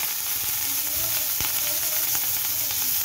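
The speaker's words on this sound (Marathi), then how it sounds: "आता ही शिमला मिरची आहे ना ती मी जराशी वाफवून घेते" Chopped capsicum sautés in a little oil in a wok for pav bhaji, giving a steady, loud sizzle and hiss with faint crackles throughout and no talk.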